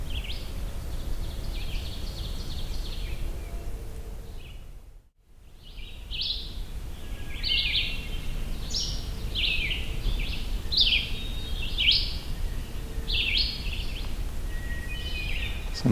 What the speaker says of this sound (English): That peer, peer, that's a tufted titmouse call.